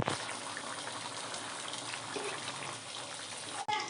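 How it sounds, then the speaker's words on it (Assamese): Chicken curry bubbles and hisses steadily in a covered wok, a dense, even simmering wash that ends with a brief knock near the close, moderately quiet with no voices. "এতিয়া আপোনালোকে দেখিছে মাংসখিনি ভালকৈ উতল আহিছে"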